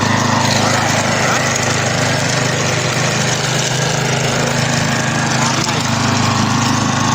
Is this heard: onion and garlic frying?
no